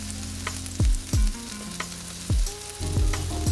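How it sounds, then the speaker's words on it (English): A deer breakfast sausage patty fries on a griddle with a low steady sizzle, interrupted by a few soft thuds and scrapes, close and quiet with no talking. "While that sausage cook on that other side."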